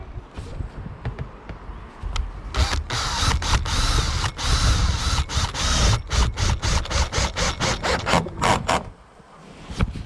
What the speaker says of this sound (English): Drills into metal and whoop, makes its own hole, and it attaches things like metal roof